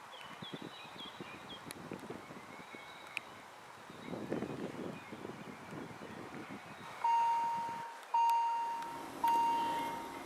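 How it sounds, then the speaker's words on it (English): A railway level crossing bell activates for a Rhaetian Railway train, ringing in three loud, evenly spaced bursts after a stretch of wind and faint outdoor ambience. "The ringing here is the crossing activating for the next RhB train."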